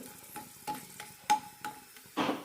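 Lump asafoetida frying in hot oil with stirring, giving a low steady sizzle broken by several sharp scraping clinks of a spoon against the pan, ending in a brief louder burst of hiss.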